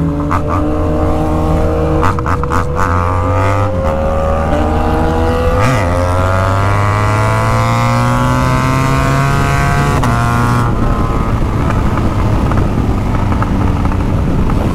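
A BMW 1200 motorcycle engine drones steadily and loudly while climbing a hill, its pitch rising and falling as it labors under load, with no talking.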